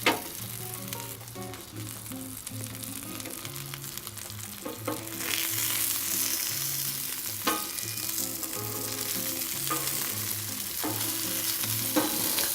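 Turkey sausages fry in pork grease on a Blackstone griddle, giving a loud, continuous close sizzle with scattered pops and scrapes, under low tonal background music.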